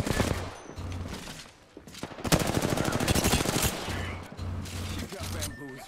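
Automatic gunfire rattles in Apex Legends, rapid bursts of shots in clusters across several seconds, loud and close, with voices and game sounds in between.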